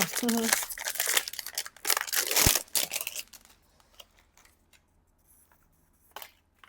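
An ice cream wrapper, sold in a pack of five, is torn and crinkled open with loud close rustling and ripping over the first few seconds, then only soft scattered handling noises follow.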